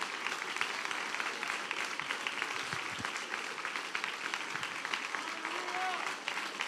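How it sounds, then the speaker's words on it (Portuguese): A church congregation claps during a worship service, dense sustained applause filling the room while a voice talks over it throughout. "Aplauda o nome do Senhor Jesus, dê glória."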